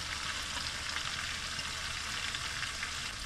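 Red onions and mushrooms frying in a pan, a steady, fairly quiet sizzle with soft crackling throughout and no talking.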